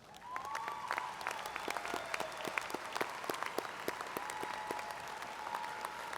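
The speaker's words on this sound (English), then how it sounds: "Will the audience join me in applauding again these honors graduates?" A large commencement audience applauds honors graduates in steady, sustained clapping that fills the hall throughout, with a faint tonal whine running beneath it.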